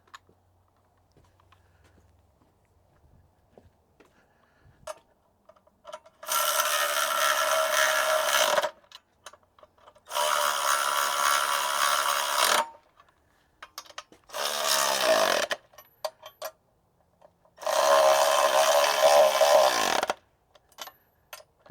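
New Milwaukee cordless impact wrench running in four loud bursts of about two to three seconds each, separated by short pauses, close up and with no talking.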